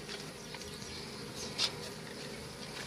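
Dense insect buzzing from many bees packed inside a beehive during a removal job, a steady close hum with one brief louder swell partway through and no talking.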